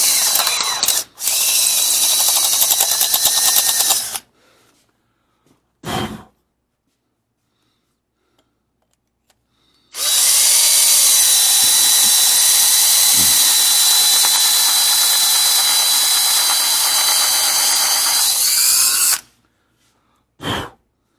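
A high-speed power tool whines loudly while porting a small-block Chevy Vortec cylinder head, running in two long sustained bursts separated by silence, with brief short blips between and after.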